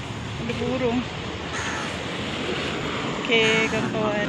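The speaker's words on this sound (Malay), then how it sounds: "Banyak burung lah. Ada burung." Crows caw repeatedly outside a hospital in a few short harmonic bursts, set against steady background noise, with people talking nearby.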